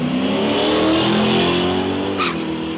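A Chevy truck launches off the line in a drag race at Palmyra Raceway, its engine roaring loud and steady while the tyres rattle and hop. A brief sharp burst comes near the end.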